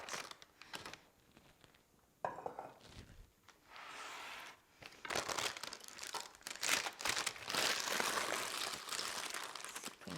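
Caramel apple pie bars with salted caramel being lifted off crinkling parchment paper, giving bursts of rustling and crackling that swell louder toward the end, with brief quiet gaps between handling.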